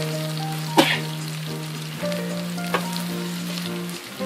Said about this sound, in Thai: ผัดพริกกับกระเทียมที่โขลกไว้นะครับให้หอมนะครับ